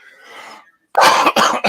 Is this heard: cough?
yes